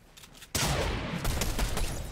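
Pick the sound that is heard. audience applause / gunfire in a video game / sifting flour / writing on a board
gunfire in a video game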